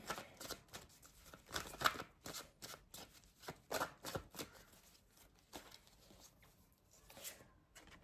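Tarot cards shuffled by hand, a quiet series of irregular riffling and slapping bursts that repeat over several seconds, close and soft with no talking.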